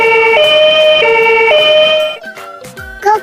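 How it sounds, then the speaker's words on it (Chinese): Ambulance siren wailing loud and close in a steady two-tone alternating pattern, then cutting off partway through into quieter mixed sounds and a brief squeal near the end. "我们得赶紧叫救护车"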